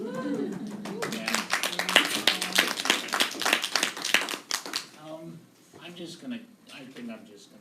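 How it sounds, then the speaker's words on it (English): Audience at a talk claps in a short burst of brisk, fairly close applause that fades out after a few seconds, followed by scattered murmured talk in the room. "I'll accept your applause on behalf of everybody"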